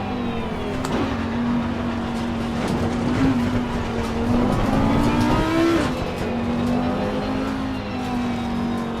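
An Audi R8 LMS GT3 Evo 2 race car at Imola in Assetto Corsa Competizione drones steadily with a rich, tonal engine note that rises and falls with throttle and shifts, close and prominent, with no talk.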